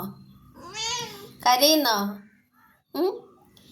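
A kitten mews plaintively in several drawn-out cries, close and fairly loud, with short pauses between them.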